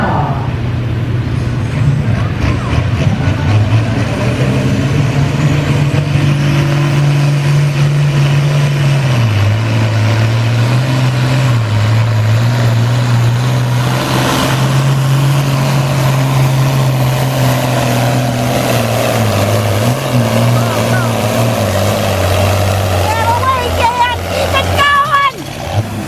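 A pulling tractor's engine roars at full throttle during a tractor pull, a loud, sustained drone with a wavering pitch that dips and recovers over the run, with an announcer and crowd voices underneath.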